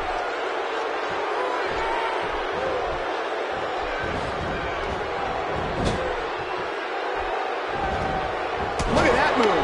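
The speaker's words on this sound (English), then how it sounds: "This crowd's going nuts, King." Arena crowd at a WWE Championship Tournament wrestling match roars steadily throughout, a dense wall of cheering with a few sharp thuds and a louder swell near the end, under faint commentary.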